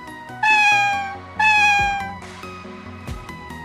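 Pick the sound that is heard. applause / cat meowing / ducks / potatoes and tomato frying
cat meowing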